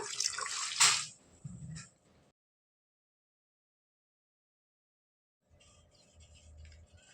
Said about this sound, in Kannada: ನೀರು ಹಾಕಿ ಚೆನ್ನಾಗಿ ವಾಶ್ ಮಾಡ್ಕೊಳ್ಳೋಣ.